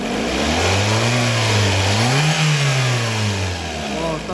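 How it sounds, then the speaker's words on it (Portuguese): A Peugeot 2008 with the naturally aspirated 1.6 engine is revved with the hood open, a loud close drone that rises in pitch, peaks, then settles back. "Dá uma acelerada aí."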